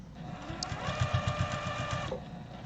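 A sewing machine runs steadily while top stitching with white thread, its needle chattering at a fast even rate close to the listener for a few seconds before it stops.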